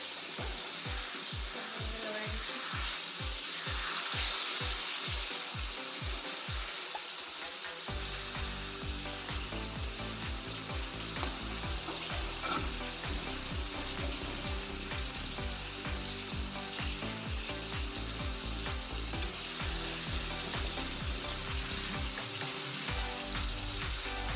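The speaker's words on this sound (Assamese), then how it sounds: "মই লৰাই দিছোঁ, লাগিছে অলপ অলপ।" Fish sizzles and fries loudly in a pan while it is stirred, a dense continuous crackle with rhythmic scraping knocks at first, then steady frying throughout, no voices.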